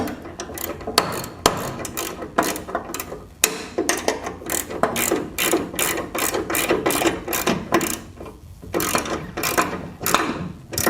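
A hand ratchet wrench installs coilovers on a 1966 Mustang, clicking in quick repeated strokes with short pauses between runs, close and clear with no talking.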